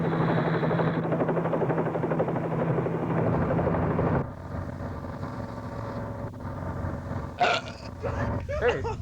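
A police helicopter passes overhead, its rotor and engine drone loud and steady for a few seconds before dropping away to a quieter, more distant rumble, with scattered clatter and thumps near the end and no talk.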